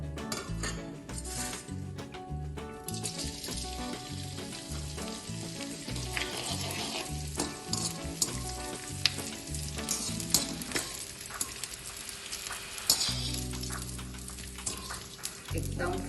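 Edible gum fries in hot ghee for winter adadiya pak, a dense, steady crackling sizzle with occasional clinks of a utensil against the pan, close and continuous.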